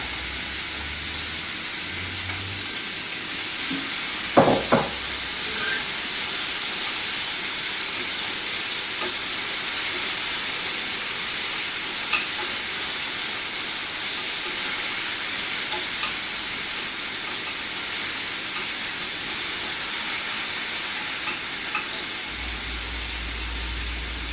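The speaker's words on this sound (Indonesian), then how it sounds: "ini saya mulai menumis untuk mengeringkan dagingnya aja ya" Steady sizzling hiss of meat being sautéed in olive oil in a pan to dry it out, continuous and even throughout, with a brief clink near the start.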